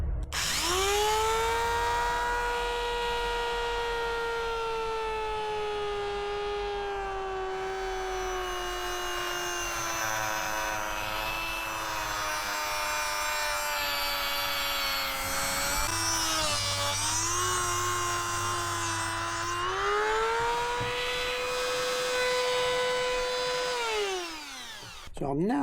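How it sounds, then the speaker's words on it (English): A Dremel multi-tool cuts steadily through part of a VW carburettor to clear room for a bolt, a loud, sustained high whine that dips and wavers in pitch as the bit bites, then winds down at the end. "take this section off at the end with the Dremel or multi-tool to give me clearance for that bolt to go downwards"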